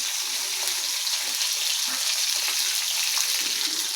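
Rohu fish pieces fry hard in a pan of hot oil, a steady dense sizzle holding evenly throughout at close range with no talk.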